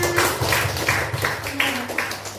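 An audience at an Indonesian teachers' gathering claps hands together in a quick, rhythmic cheer pattern, sharp bursts close and fairly loud over a faint steady tone.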